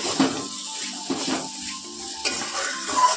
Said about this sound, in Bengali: আর এই যে আলু উচ্ছে ভাজা হচ্ছে তেল ছাড়া একদম